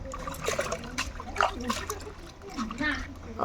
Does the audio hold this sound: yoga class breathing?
no